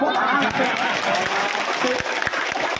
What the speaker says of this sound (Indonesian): Cangsen kulit, artinya silakan tepuk tangan